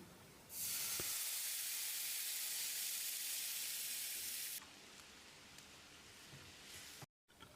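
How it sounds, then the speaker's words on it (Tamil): Mutton cooking water poured into a hot pan bursts into a loud, close hiss of sizzling steam that holds for several seconds, then drops to a quieter simmering crackle. "இப்போ இதில் நம்ம மட்டன் வேக வச்சுருந்த தண்ணியை மட்டும் ஊற்றிக்கலாம்."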